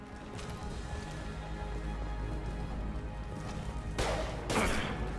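Mass Effect 2 combat gunfire: a low, steady battle rumble builds under the scene, then two short, sharp bursts of fire near the end.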